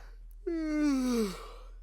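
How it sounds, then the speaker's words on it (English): A genuine human yawn, one drawn-out voiced exhale that slides downward in pitch over about a second, close and clear with no talking. "That was like an actual, like, genuine yawn that just happened after I said her name."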